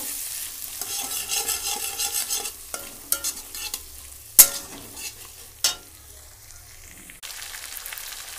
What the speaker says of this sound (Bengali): পেঁয়াজ কুচি দিয়ে দিলাম, লঙ্কা দিয়ে দিলাম, দিয়ে আমি একটু লাল লাল করে ভেজে নেব।